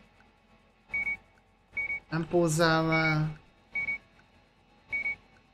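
A supermarket checkout barcode scanner in the game Gas Station Simulator gives short, clear electronic beeps about once a second, five in all, while someone speaks briefly in the middle.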